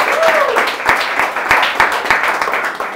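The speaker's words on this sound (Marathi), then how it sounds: "एकदा मुंबईकरांसाठी टाळ्या वाजवा." Audience applause at a Marathi stand-up comedy show in Mumbai, dense steady clapping from a crowd filling the whole stretch, with crisp individual claps standing out.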